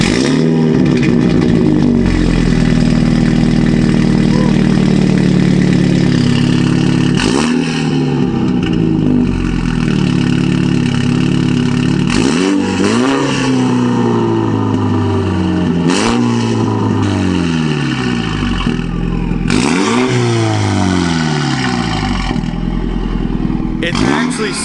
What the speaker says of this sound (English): It's actually super surprising what this thing sounds like for being a Mini Cooper.